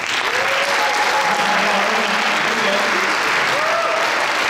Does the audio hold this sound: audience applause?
yes